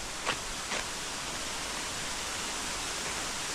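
Goa Raja waterfall in eastern Bali, Indonesia, a dense, even hiss of falling water that fills the whole clip at a steady level, with a couple of brief sharper sounds near the start.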